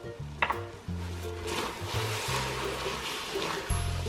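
Stirring oats and vanilla into a pot of melted marshmallow mixture for Nutella no-bake cookies: soft, steady scraping and stirring, close by, over a low tonal background.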